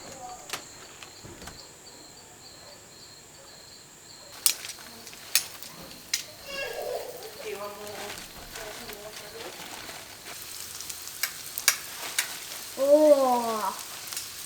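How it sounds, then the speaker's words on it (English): Fish fillets cook on an outdoor barbecue grill with a soft, steady sizzle. Birds and insects sound in the background, and voices talk over the top now and then. "All our fish bagged up, ready to cook. Let's chuck them on the barbie."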